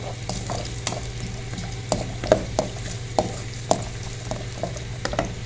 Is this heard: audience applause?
no